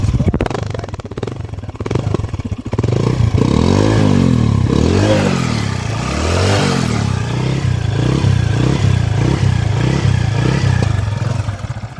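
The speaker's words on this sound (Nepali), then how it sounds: "म तपाईलाई यसको इन्जिनको साउन्ड कस्तो छ र तपाईहरुलाई देखाउने छु" A used 100cc motorcycle engine with a disc brake runs loud and close, with a steady low idle and repeated rising revs over a rattling mechanical clatter, alone throughout.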